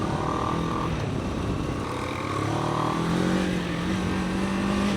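The Moto Morini X-Cape 700 engine drones steadily under acceleration, its pitch climbing and shifting through gears against constant wind rush, heard from the rider's position without talk.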